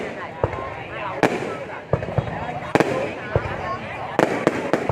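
New Year's Eve fireworks over Ho Chi Minh City in 2021, sharp booming bursts at irregular intervals over a continuous crackling rumble, with people talking nearby throughout.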